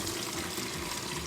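Fermented ghost peppers are rinsed under running tap water, a steady, dense rush of flowing water close by with no pauses.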